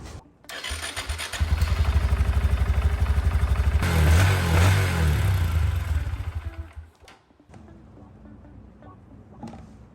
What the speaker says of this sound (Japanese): はい、一旦エンジンかけます。